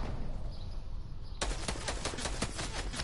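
Gunfire in a shooting video game: after a quiet opening, a rapid run of sharp, fairly loud shots bursts in and keeps going to the end.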